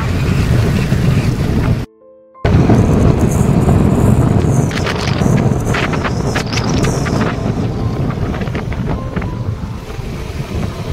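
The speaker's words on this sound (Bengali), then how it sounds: "শোনা যাবে বুঝতে পারছি না, এত হাওয়া" Heavy wind buffets the microphone in a constant roar in hill country, broken by a brief dropout, with faint water and boat noise beneath.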